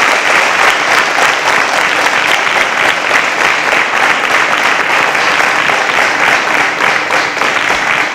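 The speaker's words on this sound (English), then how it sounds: "A round of applause for them as they exit the stage" A studio audience applauds as contestants exit the stage, a dense, loud, steady wash of clapping that holds for the whole stretch without voices.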